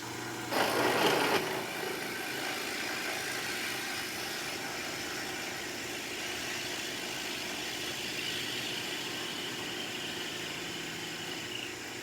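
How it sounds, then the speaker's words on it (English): A lathe hums steadily as a drill bit bores into a laminated wood bowl blank, a brief louder whine near the start, then an even grinding drone throughout. "So now I'm going to start boring away."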